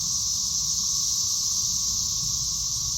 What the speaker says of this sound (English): That's the sound of cicadas. They've just hatched here in Tennessee.